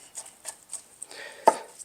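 A knife finely chops food for a plant-based pasta and beans dish, producing a few light, spaced taps on a cutting board, with one sharper knock near the end; quiet and close.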